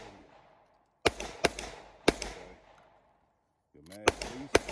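Sharp metallic clacks from a Canik TP9SFX pistol as the magazine is dropped and the slide worked to clear it, a handful of close, loud impacts spaced irregularly between pauses, with brief talk in between.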